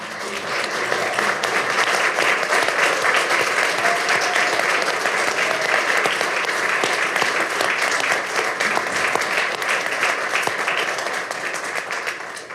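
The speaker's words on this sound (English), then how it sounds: "Join me in a round of applause" Sustained audience applause in a city council chamber, dense, even clapping from many people lasting about twelve seconds and tapering slightly at the end, with no talk over it.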